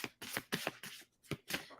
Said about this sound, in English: So I'm tapping your energy as I shuffle cards.